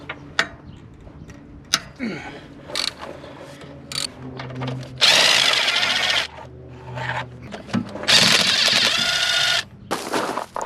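A power tool removes two 13mm bolts from the starter of a jacked-up Chevrolet Tahoe, with bursts of whirring ratcheting spinning that come in two long loud runs between shorter clicks and clanks, close by.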